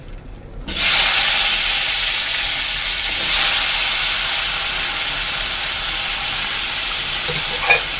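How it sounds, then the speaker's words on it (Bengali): Potatoes fry in hot oil in a wok, a loud, steady sizzle with a hissy wash that starts abruptly and holds unbroken for several seconds, no voices over it. "আলুগুলো একটু ভাজা করে নেবো"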